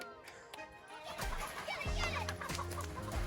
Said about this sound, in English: We're teaching our dog how to pin a meat bird.